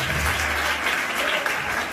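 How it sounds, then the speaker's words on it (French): Steady, dense applause from a crowd fills the moment, loud and continuous, with a low hum fading out in the first half. "Applaudissez un peu pour Boulot"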